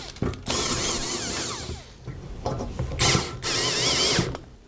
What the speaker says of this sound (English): We're going to screw it down.